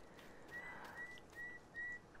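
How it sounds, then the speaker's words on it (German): A person whistles a short repeated note four times in a row, steady high tones spaced evenly apart, fairly faint against quiet background hiss. "Können Sie bitte aufhören, hier meine Aufnahme zu pfeifen?"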